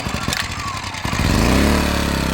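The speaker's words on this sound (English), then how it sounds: "Engine's running." A small off-grid generator engine, choked for starting, cranks with rough uneven bursts and then catches into a loud, steady, close running drone with no talk over it.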